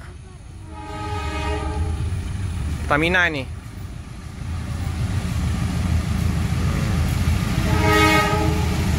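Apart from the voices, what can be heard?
freight train locomotive passing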